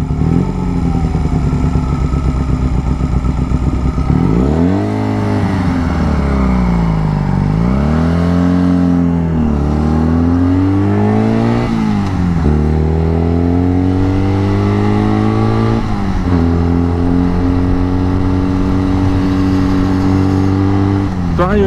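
A Honda Rebel 125 bobber motorcycle rides steadily nearby, its engine note rising and falling through repeated accelerations and gear changes, loud and continuous, with wind rush throughout.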